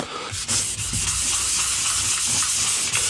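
Steady, continuous sanding of a Telecaster guitar body, a dry abrasive rubbing with a bright hiss and slight rhythmic surges from the strokes, close and fairly loud throughout.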